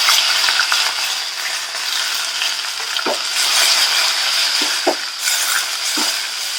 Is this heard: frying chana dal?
yes